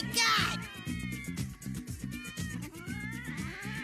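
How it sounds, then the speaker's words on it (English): Cats meow and caterwaul in drawn-out, wavering cries over a constant low, rhythmic background throb, with a loud yowl at the start and repeated wails through the rest. "They're having a cat orgy."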